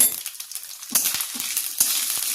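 Fennel paste is stirred into spices frying in a pan, a soft steady sizzle with scraping strokes and a few sharp clinks of a utensil against the pan.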